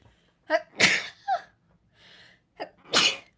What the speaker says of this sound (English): That was probably a confirmation sneeze.